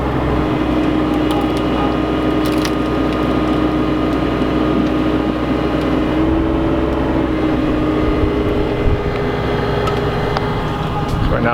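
Mini excavator idling and working while loading a destroyed semi trailer with chains at an abandoned racetrack, a steady droning engine hum held throughout with faint clanks and knocks over it.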